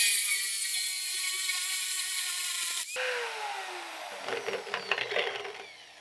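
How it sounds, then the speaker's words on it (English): A power drill whirs at high speed, then winds down and starts again as it bores holes in wood for a DIY wooden bat rack, with scattered rattling and crunching toward the end. "we got the holes drilled"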